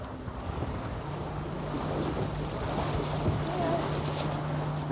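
Gusty wind on a sailboat out on the water, a constant rushing roar with buffeting on the microphone and the wash of waves beneath, steady and close.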